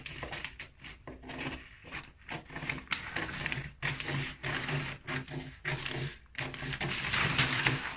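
Scissors snip through coat fabric while cutting out an armhole, a rapid series of close crunching cuts with soft rustling of cloth in between.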